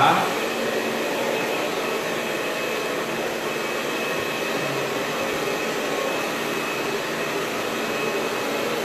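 A salon hair dryer blows continuously as hair is dried after a layered cut with fringe, a loud, close and steady roar that persists throughout.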